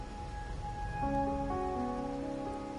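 Rain falls in the game Wuthering Waves as a soft, constant patter beneath sustained, tonal music notes, with no voices.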